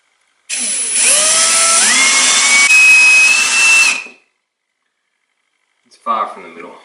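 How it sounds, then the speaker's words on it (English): A power drill bores a hole in the broken gear shift lever of a Triumph Bonneville at home, a loud whine rising in pitch over about three and a half seconds before stopping, followed by a short voice. "drill a hole as straightly as I possibly can."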